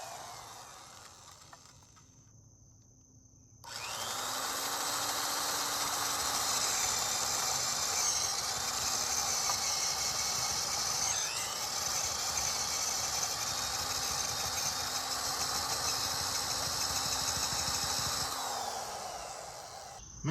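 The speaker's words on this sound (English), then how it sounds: "Now we're gonna put the 3-inch bit on and get that drilled out." A power drill with a 3-inch bit bores a 3-inch-deep hole into wood for a kids' treehouse platform, giving a steady, close, continuous whirring whine that runs for about fifteen seconds after a quiet start.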